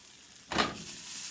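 Onions sizzling in a frying pan for yellow curry noodles, a sudden loud burst of frying as they are stirred, then a steady hiss.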